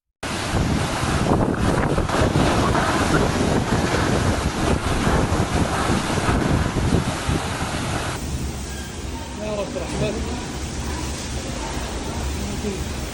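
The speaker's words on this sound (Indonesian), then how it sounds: "رياح وأمطار غير طبيعية والله" Loud, steady roar of strong wind buffeting the microphone, with a dense rushing wash like heavy rain throughout, during a storm in Yanbu, Saudi Arabia.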